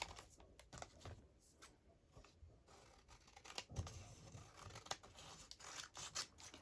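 Scissors trim the glued edge of a paper library card pocket with close, soft snips amid paper rustling and handling noises.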